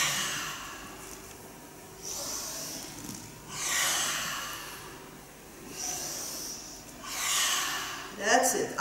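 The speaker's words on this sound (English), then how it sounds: "It must become a sort of a lion's breath." Forceful rhythmic breathing from a Kundalini yoga lion's breath exercise during a home workout, with loud hissing exhalations about every two seconds, close to the microphone, and no talk between the breaths.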